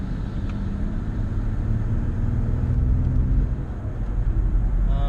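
A Mercedes S65 with a misfire, heard from inside as a low, steady engine rumble that swells slightly while the car accelerates.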